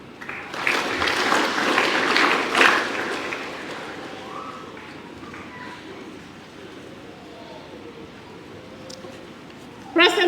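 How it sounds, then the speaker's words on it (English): A graduation ceremony crowd applauding the graduates of 2025 at a campus in Wewak, a dense wash of clapping and cheering that peaks early, then fades to a low murmur before a brief thump near the end. "Ladies and gentlemen, please give a round of applause for the graduates of"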